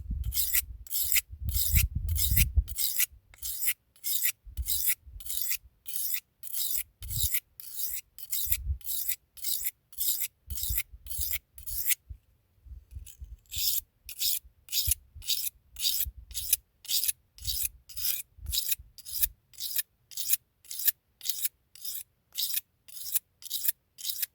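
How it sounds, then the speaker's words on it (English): Steel knife blade sharpened on a 600 grit whetstone, rhythmic scraping strokes close up, each a harsh gritty rasp in a steady back-and-forth pattern with a brief pause midway, no voices. "this 600 grit is doing a pretty good job at hogging off steel"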